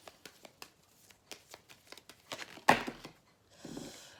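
Tarot cards shuffled by hand in a series of soft, quick riffling taps, ending in one sharp louder riffle and a short crinkling rustle, close and fairly quiet with no talking.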